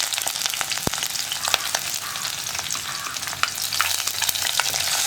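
Crushed ginger, green chilies cut into pieces and onion sliced in rounds cook lightly in a pan for a sardine coconut-milk curry. A continuous close sizzle runs throughout, broken by sharp clicks and scrapes of stirring.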